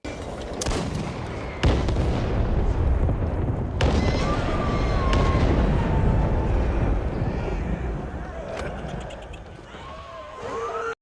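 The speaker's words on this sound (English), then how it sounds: "And then we quickly met up with Roger, where he showed us his rip-off fireworks show." Fireworks show in the video game Back 4 Blood: sharp bangs at irregular intervals over a dense rumbling wash, with faint whistling streaks between bursts and some talk beneath.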